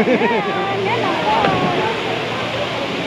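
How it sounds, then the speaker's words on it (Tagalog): Steady rushing roar of Daranak Falls heard close by, continuous and broadband, with a person talking over it. "Welcome sa Daranac Falls."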